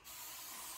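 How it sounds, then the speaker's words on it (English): Hairspray misted onto curled hair from an aerosol can, one short continuous hiss starting abruptly and holding steady, soft and close. "I'm spraying my hair."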